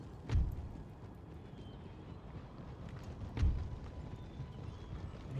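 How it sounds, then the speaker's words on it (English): Heavy cavalry horses galloping across a battlefield in the strategy game Empire: Total War, a dense low rumble of hooves with two heavier thumping surges, steady and fairly quiet, no voices. "Lots of heavy cavalry."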